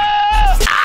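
A single goat bleat, loud and close, with a wavering, nasal tone that ends in a rough, breathy burst. No other sounds or voices accompany it.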